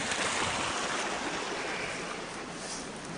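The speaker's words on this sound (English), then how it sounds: "This water is running, the creek runs very hard." A winter creek flows hard over and beneath thick ice near the White Mountains, a steady broadband rush of running water filling the whole clip, loud and close with no voices.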